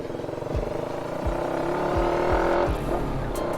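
A truck on a road in Davao City passes close by, its engine droning and repeatedly swelling in pitch as it revs, loud and continuous with no voices.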